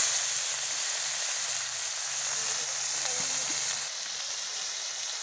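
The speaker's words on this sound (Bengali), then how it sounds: "ওই তেলেই আমি কাঁকড়া ভেজে নেব। এই যে দিয়ে দিচ্ছি।" Small crabs frying in leftover oil in a wok, giving a steady broadband sizzle that holds evenly throughout, with faint low background tones and no speech.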